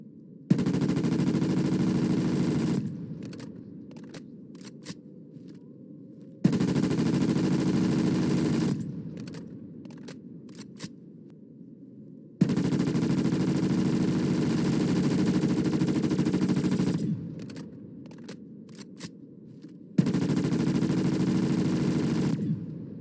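Vargo 52 assault rifle firing in Call of Duty Cold War Zombies, not pack-a-punched: four sustained loud automatic bursts of a few seconds each, separated by short pauses with a few faint clicks and clatter.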